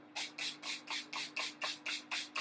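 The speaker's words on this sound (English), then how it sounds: "I'm going to go in with my setting spray." Revolution setting spray misted onto a face in short, even pumps, about eight quick hissing bursts in a steady rhythm, close and clear with no talking.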